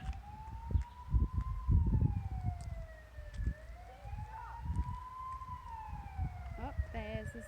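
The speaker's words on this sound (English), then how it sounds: "Oh, there's this ambulance coming." An ambulance siren wails in slow rising and falling sweeps as it passes by an outdoor nature playground, fairly clear over heavy low rumble and wind, with a voice nearby.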